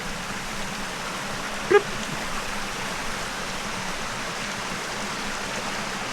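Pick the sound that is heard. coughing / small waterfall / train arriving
small waterfall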